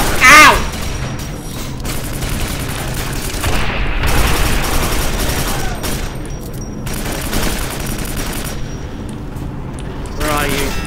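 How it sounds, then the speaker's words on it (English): Gunfire rattles through a Quake 4 multiplayer match in rapid, loud volleys over a steady background din, broken by brief squeaky electronic chirps, with no speech. "Oi, stop shooting at me."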